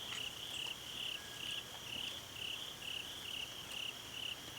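Crickets chirp in a steady outdoor chorus, a faint, continuous pulsing trill that repeats evenly with no voices.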